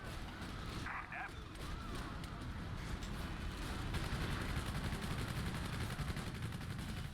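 Video game gunfire, rapid shots and mechanical clatter at moderate level under a steady rumble of battle noise, continuing throughout with a brief voice early on.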